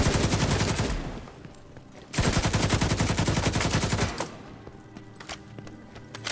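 A deployed turret in The Division 2 fires rapid automatic bursts, loud and close, two long volleys separated by a short pause, then a few scattered shots.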